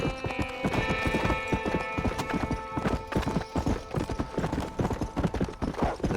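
Horse hooves clip-clop steadily in the Red Dead Redemption video game, a continuous trotting rhythm up close with background game music underneath.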